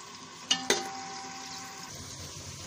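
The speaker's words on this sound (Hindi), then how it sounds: "अब प्याज को थोड़ी देर फ्राई कर लेंगे।" Onions fry in a pan with a steady, even sizzle, broken early by two sharp knocks of a utensil against the pan.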